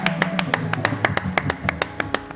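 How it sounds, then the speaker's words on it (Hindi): Studio audience applause on a talk show, sparse rhythmic claps, about a dozen sharp near claps at an even pace, like a few people clapping together rather than a full crowd. "बहुत तालियां होनी चाहिए यहाँ साहब"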